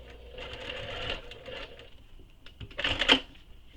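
A sewing machine top stitches along a handbag seam, running in short whirring bursts with pauses between, ending in a louder, faster run.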